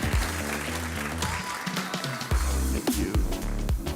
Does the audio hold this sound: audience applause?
yes